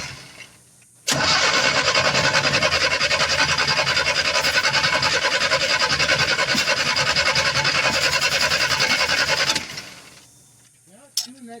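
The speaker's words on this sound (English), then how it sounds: "Now it's doing that damn thing where it won't start again." A Buick V6 engine cranks on the starter for about eight and a half seconds in one loud, unbroken grinding stretch without catching, then cuts off. A faint voice is heard briefly afterward.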